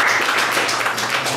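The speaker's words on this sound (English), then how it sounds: "So once again, a big round of applause for Praveen." Brief burst of clapping from an audience at an annual membership lunch, a short dense patter at fairly close range that carries on evenly without talk.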